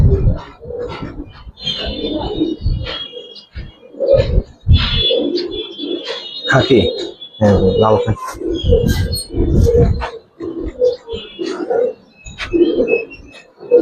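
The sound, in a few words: pigeons cooing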